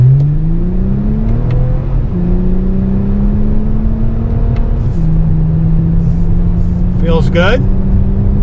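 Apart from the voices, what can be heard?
2024 Toyota Camry TRD V6 engine accelerating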